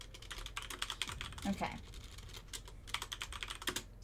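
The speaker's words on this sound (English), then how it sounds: "I was typing an idea" Rapid keyboard typing clatters steadily at close range throughout, with quick irregular keystroke bursts, while a person talks faintly underneath.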